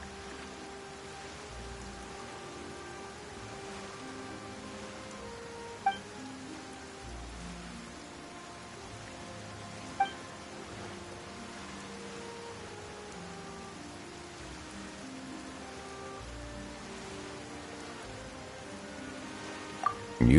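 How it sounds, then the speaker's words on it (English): Rain falls in the video game Genshin Impact as a soft, steady hiss of drops with faint tonal background music and a few scattered light ticks. "Why is it raining all of a sudden?"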